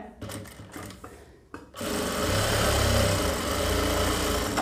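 An electric sewing machine runs steadily while stitching a blouse, a continuous close whirring drone that starts abruptly after a few brief stops and starts.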